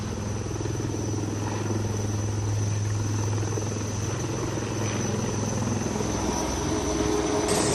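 A helicopter flying over a flood rescue in Punjab, a steady, moderately distant rotor thrum with a constant low drone and a thin high whine holding throughout.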